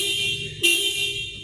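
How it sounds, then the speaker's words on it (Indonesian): A Toyota Sienta's horn is tested during a routine service check, giving one short bright honk partway through. A low idle hum runs throughout and no one speaks. "Klaksonnya masih bagus ya"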